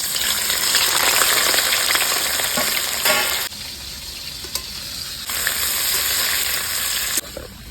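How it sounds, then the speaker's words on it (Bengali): Boiled cauliflower florets fry in hot oil, a loud, continuous crackling sizzle that drops in intensity partway through and then surges again, heard alone without talk. "তেল তো গরম হয়ে গেছে, এবার সেদ্ধ করা ফুলকপি তেলে ভেজে নেবো।"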